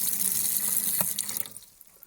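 Water runs from a pump-fed tap into the sink of a Hijet Romahome campervan, a steady close splashing flow that tapers off and stops near the end.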